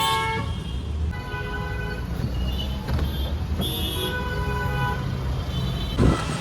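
Steady roadside traffic rumble in Noida, India, with passing vehicles and a few short horn toots, continuous throughout and moderately loud.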